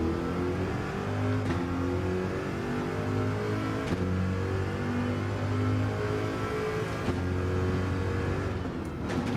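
A Jaguar race car in the Gran Turismo 7 racing game accelerates, its engine droning loudly and steadily with rising and falling pitch as it climbs through the revs, briefly dipping at gear changes, with no talk over it.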